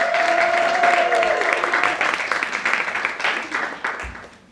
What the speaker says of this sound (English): One more round of applause for our first act,